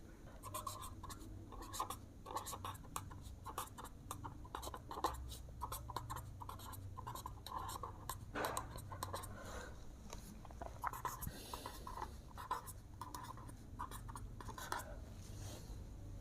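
Pen scratching steadily on paper while math is written out by hand, with short strokes and brief pauses in a continuous close-up scratching rhythm.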